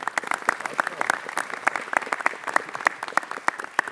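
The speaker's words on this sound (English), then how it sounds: "Please give her a big round of applause." An audience at a Norooz celebration at Los Angeles City Hall applauds to welcome a speaker, with crisp, fairly sparse claps from a modest crowd ringing out steadily for a few seconds.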